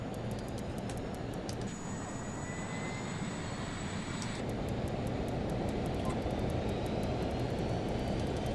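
Twin jet engines of a Learjet 35A classic business jet in a flight simulator, a steady, loud roaring hum with a high whine on top and faint repeated ticking clicks over it.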